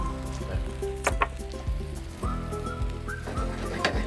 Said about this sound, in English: And just let it boil.